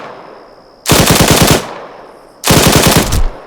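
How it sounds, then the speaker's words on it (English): Suppressive machine gun fire in Arma 3, two loud sustained bursts of rapid automatic shots separated by a short pause, close and dominant over faint background ambience. "Some more suppressive fire."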